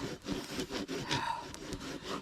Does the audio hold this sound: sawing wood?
yes